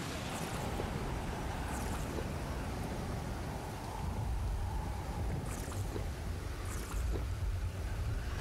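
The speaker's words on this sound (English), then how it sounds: "all this rain's coming down" Steady rain pours down with a dense, even hiss and low rumble, continuous throughout with no voices, in the video game Stranded Deep.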